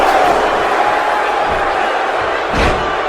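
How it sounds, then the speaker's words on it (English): Loud wrestling arena crowd roaring continuously, a dense wash of cheering and shouting with a thudding impact near the end. "Do you hear the crowd reaction to that? It's absolutely deafening right now, Chip"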